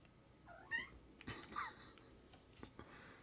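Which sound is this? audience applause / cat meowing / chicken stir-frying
cat meowing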